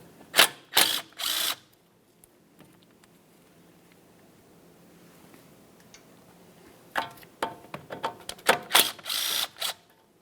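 A hand ratchet working on the 10mm bolts holding the brake hose to the steering knuckle of a 2003-2007 Honda Accord, with quick bursts of close clicking early and again near the end, separated by a quiet stretch.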